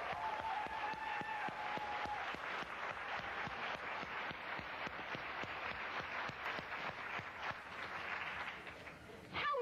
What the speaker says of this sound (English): I'd like you to join me and give yourselves a round of applause.